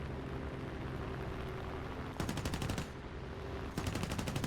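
Machine guns of a P-47 fighter plane rattle in a flight combat video game as it dives on an enemy, with two rapid bursts over a steady engine drone.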